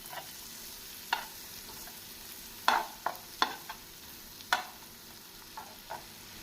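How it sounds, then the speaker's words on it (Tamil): Chopped onions frying in butter in a pan for homemade pav bhaji masala, a soft steady sizzle broken by several sharp scraping stirs of a spoon against the pan, with no talking. "நாம் வெங்காயத்தை நன்றாக வெண்ணெயில் வதக்க வேண்டும்."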